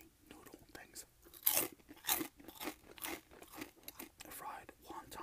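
Close, crisp crunching of chewing crunchy fried noodles, repeated in quick irregular bites, with faint whispery sounds between them.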